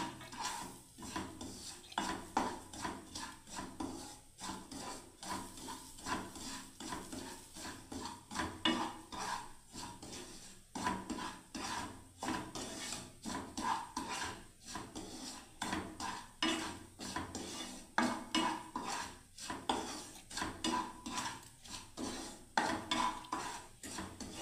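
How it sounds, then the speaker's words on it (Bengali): Semolina browning in a pan with almonds, stirred steadily by a spoon, giving a continuous dry scraping and rasping with rhythmic strokes against the metal, close and fairly quiet, no voices. "ভালো করে বন্ধুরা একটু ব্রাউন করে সুজিটাকে আমি ভেজে নিচ্ছি"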